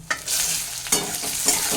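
Chopped onions, three medium ones, frying lightly in a pan for a chicken broth, with a steady close sizzle and a few scraping stirs of a spatula, no talking.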